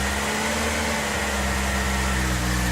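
Jaguar XJR engine idling roughly after a choke-assisted start with vacuum lines disconnected, a steady close low hum and drone holding throughout without speech.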